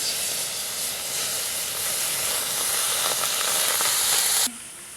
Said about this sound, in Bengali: শিরার জন্য দিয়ে দেব কড়াইতে জল।